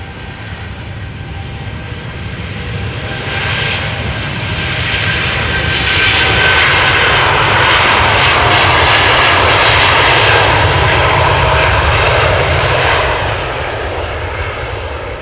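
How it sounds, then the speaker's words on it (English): KLM Boeing 787-10 Dreamliner jet engines on departure from Amsterdam Schiphol, a loud sustained roar that swells to a peak midway through the pass and then eases off slightly, with no talk. "Boeing 787-10 Dreamliner, the biggest of the family, outbound to San Francisco, KLM flight 605."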